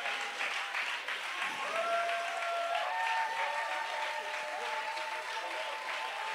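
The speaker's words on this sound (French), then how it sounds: "Acclamons le Seigneur." A church congregation claps together in sustained, dense applause, steady throughout with a few voices and whoops rising faintly over the clapping.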